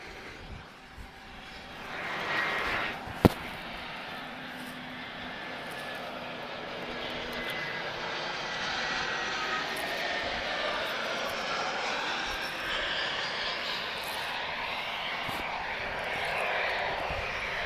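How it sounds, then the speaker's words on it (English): An Airbus A320neo airliner spools up its engines at Lisbon Airport, a steady rising whine and roar heard from a distance that grows gradually louder and holds, with a brief sharp click early on. "so that sounds like the Neo starting its engines"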